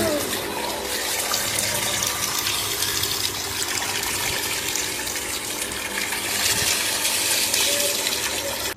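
Dirty drainage water gushes steadily from a household tap in Hyderabad, a continuous close splashing roar with a faint voice underneath.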